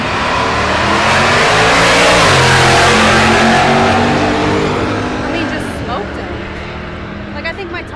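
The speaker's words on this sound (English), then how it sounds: "We got a VW Bug lining up to go." VW Bug roaring off the line on a drag strip, a loud, harsh engine howl building then fading as it pulls away, with crowd noise and voices underneath.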